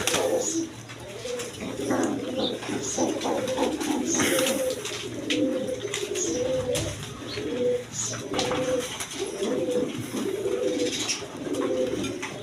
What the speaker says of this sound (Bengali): দেখেন রাসগোল্লা কবুতর